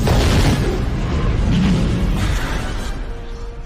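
A big booming explosion sound effect bursts in loud at the start, then its rumbling tail slowly thins and decays, with no voices present.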